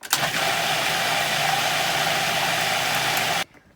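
A food processor gives garlic mustard pesto its final spin, a loud, steady motor roar running continuously for over three seconds before cutting off abruptly into near silence.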